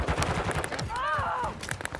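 Sniper gunfire in Call of Duty Modern Warfare 2 multiplayer: a few sharp, loud shots crack amid busy game noise, with a brief whistling sweep in the middle of the burst.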